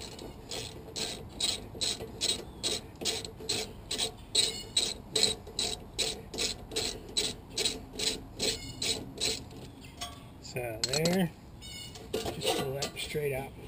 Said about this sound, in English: I just use an extension because it gives you some clearance in here. More room to turn the wrench.